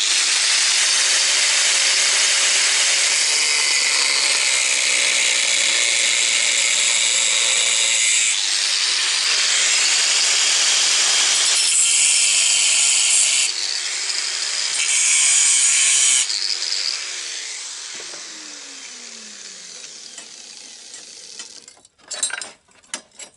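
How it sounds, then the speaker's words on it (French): Power tool cutting and grinding a Citroën Xantia interior part being fitted into a Traction 11B, a loud continuous high-pitched whine that shifts in pitch and tapers off, followed by a few sharp knocks. "suite à un savant traçage, eh bien, découpage et meulage"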